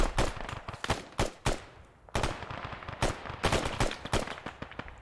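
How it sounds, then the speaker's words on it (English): Gunfire in the military game Arma 3, a rapid series of loud, sharp rifle and machine-gun bursts, some shots close and others trailing off in distant echoes, with no voices. "Got a lot of gunfire coming from that direction."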